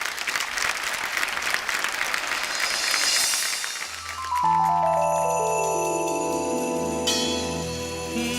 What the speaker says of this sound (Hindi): रिदम के लिए एक बार जोरदार तालियां।